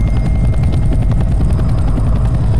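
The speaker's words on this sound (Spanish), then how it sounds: "la animación del helicóptero" Helicopter rotor and engine noise from Counter-Strike: Global Offensive, a loud steady whirring drone with rapid blade chop, continuous throughout with no talk.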